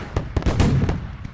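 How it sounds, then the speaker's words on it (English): Fireworks going off in a Simpsons cartoon: a quick run of sharp, loud bangs and pops, roughly five bursts in just over a second over a crackling, rumbling wash. "We're out of fireworks. Why'd you shoot them off now?"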